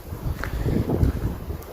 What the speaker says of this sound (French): on a du vent aussi.